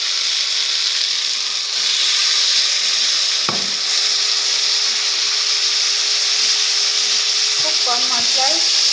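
Okra sizzles steadily in hot oil with spices in a Bengali home kitchen, a close continuous frying hiss with a brief clatter of utensils partway through and again near the end.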